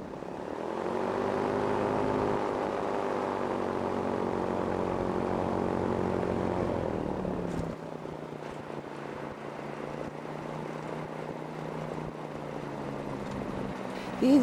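A small two-seater light sport airplane comes in to land, its propeller engine droning steadily before the pitch drops and the engine note fades to a lower hum, with no talk over it.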